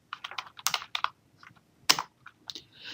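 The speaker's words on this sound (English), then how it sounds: "So if I type some text, I hit return and I hit my hyphen 3 times and hit enter." Rapid irregular clicking of keys on a computer keyboard while typing text, with a few quick bursts and brief pauses between strokes, close and fairly quiet.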